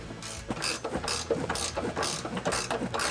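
A 19mm wrench tightens trailer hitch bolts on a 2020 Chevrolet Trax, producing steady close ratcheting clicks in repeated bursts of mechanical clatter with no talking.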